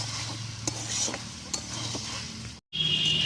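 Spice masala frying in a pan for a potato and squash curry, with a soft sizzle under a few distinct scraping stirs and a brief cut near the end before the frying resumes, close up and with no speech.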